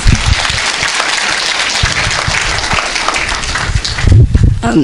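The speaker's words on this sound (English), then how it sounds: "give her another round of applause" A crowd at a community gathering in California applauds loudly and continuously, a dense wash of clapping that holds for several seconds before a voice and some thumps rise near the end.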